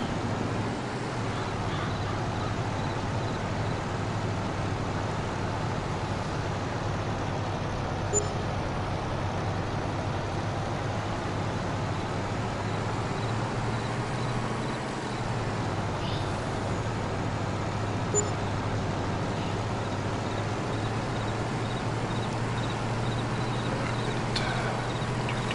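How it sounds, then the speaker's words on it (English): A water truck driving along to park in Farming Simulator, a continuous low engine drone with a steady hum and broad road rumble, fairly quiet and unchanging, with a faint distant voice briefly under it. "Let me go park my water truck again."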